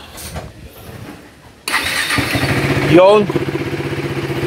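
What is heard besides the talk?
KTM Duke 390 motorcycle engine starting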